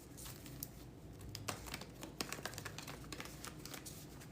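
Soft, rapid papery riffling and crinkling of tarot cards being shuffled, with brief louder snaps, close by and without any voices.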